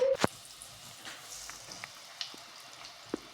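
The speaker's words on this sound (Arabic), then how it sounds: "نروحو نقليوهم في شوية تاع زيت" Artichokes fry in a little oil with a faint, soft sizzle and scattered small pops and crackles, close but quiet, broken by a sharp clink near the start.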